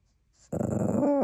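A dog gives a short, low, close growl that starts suddenly after a brief silence and rumbles steadily to the end.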